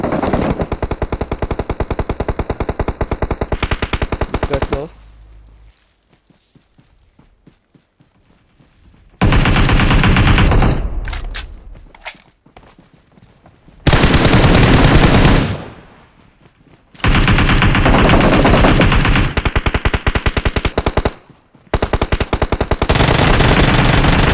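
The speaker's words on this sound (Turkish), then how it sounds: "basan aracılarda araçta basanlarda çok güzel bir şekilde vurduk" Sustained bursts of automatic gunfire in PUBG Mobile aimed at occupants of a vehicle, loud and close, broken by a few short quiet gaps between long strafing runs.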